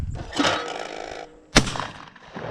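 A shotgun fired at a skeet target outdoors: one sharp, loud blast cracks out mid-clip and fades quickly, preceded by a duller thump and some handling noise.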